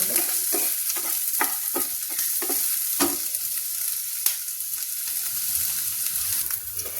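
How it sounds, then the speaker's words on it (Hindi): Onion fries in a pan with a continuous sizzle and a run of soft stirring scrapes early on, then a sharp clink, with the sizzle steady throughout and no talk. "अब देखिए प्याज भून गया है"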